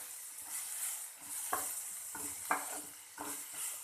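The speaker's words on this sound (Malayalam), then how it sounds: "ഒന്ന് ഇളക്കി കൊടുക്കാം." Beans, carrots, green chillies and capsicum frying in a pan with a soft steady sizzle, while a spoon scrapes and stirs in three or four distinct strokes, close and fairly quiet.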